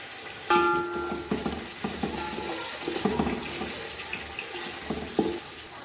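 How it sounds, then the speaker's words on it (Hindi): Pieces of boiled beef from yakhni frying in oil give a steady close sizzle and crackle, with occasional clanks and scrapes of a spoon turning the meat, and no talking. "अब मैंने यखनी में से सिर्फ गोश्त को निकाल लिया हुआ है और अब मैं इसको इसके अंदर फ्राई करने लगी हूँ"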